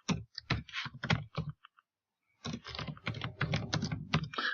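Fast clattering keystrokes on a computer keyboard come close and clear in two bursts separated by a short pause.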